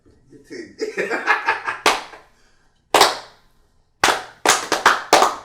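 Loud hand claps, first quick and uneven, then a few sharp separate claps after pauses, with some laughter mixed in early.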